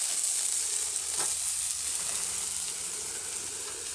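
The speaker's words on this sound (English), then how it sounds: "we're going to put this pork, we're going to get it heating up" Pork heating on a 17-inch Blackstone griddle sizzles in a steady, close hiss that fades slightly toward the end, with no voices over it.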